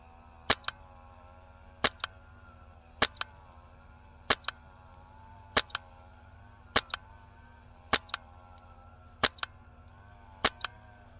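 A Krytac Kythera MK2 CRB airsoft rifle firing at 100 PSI gives sharp, snappy double-clicked shots, about nine evenly spaced reports over eleven seconds, close and crisp over a faint steady hum.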